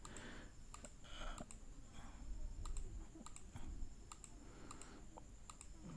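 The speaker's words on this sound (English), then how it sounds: "Here I am typing my password." A password being typed on a computer keyboard to log in to a Huawei 4G router, with bursts of quick, crisp key clicks at a steady pace over a faint background hum and no talking.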